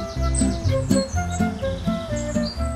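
A curious European robin close by in Côtes d'Armor, giving a run of bright, high chirps and short song phrases, loud and near, with repeated notes over about three seconds and no talking.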